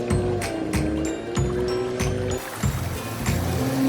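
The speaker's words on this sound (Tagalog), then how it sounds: "Ang linaw ng tubig at ang sarap pakinggan ng lagaslas." Clear water babbles and laps steadily in an outdoor cartoon scene where a monkey sets off to explore with a fishing rod, with rhythmic swishes repeating under a bright musical tone.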